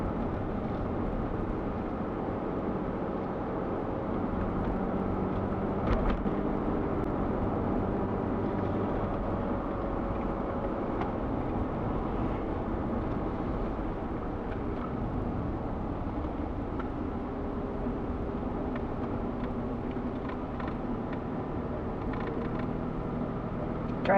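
Steady, continuous engine and road rumble from a car climbing a rural mountain road, a droning hum with no voices over it from start to finish.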